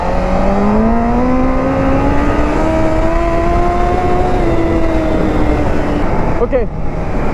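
Honda CBR1000RR Fireblade sportbike engine, just run in, idling and revving steadily with a rising, humming tone throughout, close and loud, with talk over it.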